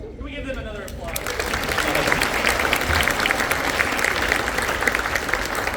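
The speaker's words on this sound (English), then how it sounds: "Can we give them another applause?" Audience applause at a freshman academy symphonic band spring concert, rising after a brief spoken line into a dense, sustained roomful of clapping that carries on steadily.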